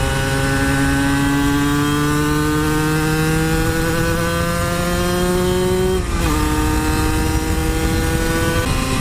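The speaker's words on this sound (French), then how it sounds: "Elle est magique cette moto." A Cagiva Mito 125 two-stroke motorcycle engine screams at high revs, climbing steadily, dipping briefly at a gear change, then pulling hard again, loud and close throughout with no talking.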